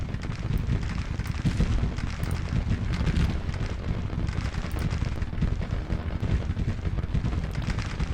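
Dense musket and artillery fire in a Civil War battle from Grand Tactician: The Civil War, a continuous rumbling roar of overlapping shots and booms, steady and heavy throughout with no talk.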